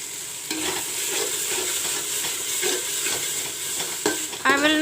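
Dhania, jeera and black pepper paste frying in a pan for village-style mutton curry, a steady close sizzle with repeated stirring scrapes and a louder clatter near the end.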